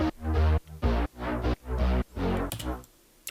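A thick, sustained bass line plays in phrased notes with a slightly smeared, doubled texture from a very short delay, followed by a few bright clicks.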